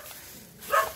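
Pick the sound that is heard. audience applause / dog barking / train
dog barking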